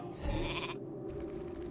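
A sheep bleat from a mage's polymorph spell in World of Warcraft, a single wavering bleat heard alone over quiet background game ambience.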